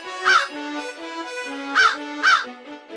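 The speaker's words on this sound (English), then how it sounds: "See how this crow is cawing," A crow caws three distinct times with harsh, nasal calls, the first near the start and two closer together later, over a sustained tonal background.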